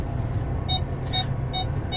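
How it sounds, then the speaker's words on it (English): Parking sensor on a 2006 Ford F150 Lariat SuperCrew pulling into a parking spot behind a car, four short electronic beeps at an even pace over a low engine hum inside the cab. "Those are the parking sensors telling you as you're getting too close."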